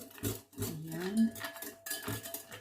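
A spoon stirs pork shoulder BBQ marinade with meat tenderizer in a bowl, giving close, irregular clinks and scrapes against the bowl, with a faint voice underneath.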